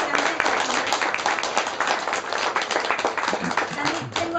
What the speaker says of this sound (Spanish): Un fuerte aplauso de la gente.